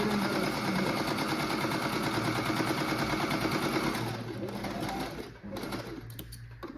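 A Singer 1304 electric sewing machine stitches steadily, its motor whirring and needle clattering in a dense, continuous rhythm up close, then slowing and stopping with a few sparse clicks near the end.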